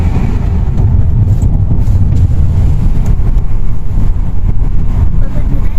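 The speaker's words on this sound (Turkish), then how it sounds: "rüzgar sesi çıkmasın diye" Loud, constant rumbling wind buffeting, like air rushing through open windows of a moving car on a coastal road, steady throughout with no pauses.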